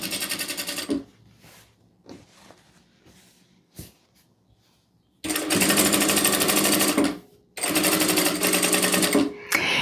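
Sewing machine stitching fabric in long, steady, loud runs, first a short burst, then a quiet pause with light handling sounds, then two extended stitching passes separated by a brief stop.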